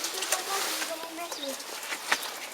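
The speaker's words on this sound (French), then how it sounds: "Comme vous le voyez, on a installé le premier pigeon." A pigeon set in a hunting cage for wood-pigeon hunting gives a few soft, short coos, close by and mixed with French speech.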